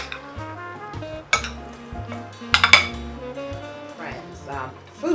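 Spoon clinking and scraping against a bowl as avocado is stirred into a bay scallop ceviche salad, several distinct knocks and clinks in an uneven rhythm, close and fairly loud with no talking.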